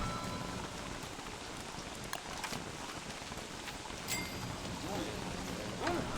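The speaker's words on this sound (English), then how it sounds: "Rain is getting louder," Steady rain falls in the video game Don't Starve Together, a soft, even patter of drops on surfaces. Occasional faint clicks and taps come through, and the rain swells slightly toward the end.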